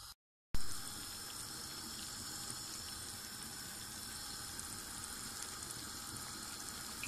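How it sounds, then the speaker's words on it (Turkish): Stuffed peppers, eggplant and zucchini dolma simmering in a covered pot, a steady hiss and bubbling noise that holds evenly after a sudden start, with no voices. "Gördüğünüz gibi kaynadı."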